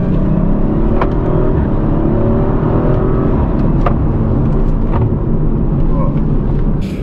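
Audi RS5-R ABT engine drones steadily under the roof, a low continuous rumble with faint rising revs throughout, heard from inside the car without much change in loudness.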